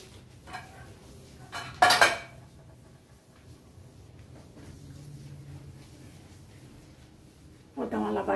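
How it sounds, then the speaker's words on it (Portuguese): Dishes and cutlery clatter at a home kitchen sink during washing up, with a sharp clinking burst early on and more rattling near the end over a quiet, hissy background. "Vamos lavar a louça agora nós duas."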